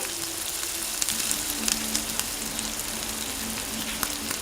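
Crushed garlic and ginger sizzle with popped mustard seeds in a hot oiled pan in a Malayali home kitchen: a steady, close crackling fry with occasional sharper spits and pops, no voices.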